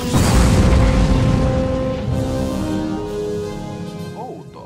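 A spaceship explodes in a science-fiction space battle: a loud, deep boom that starts abruptly and rumbles out slowly, with a tonal hum lingering beneath the fading blast.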